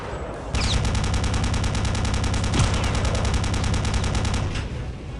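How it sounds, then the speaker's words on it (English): Rapid machine gun fire in the video game Return to Castle Wolfenstein, a loud, sustained burst of evenly spaced shots that rattles continuously for about four seconds before cutting off. "Hey, machine gun."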